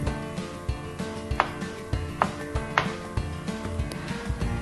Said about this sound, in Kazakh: Және тұздалған қиярымызды тураймыз.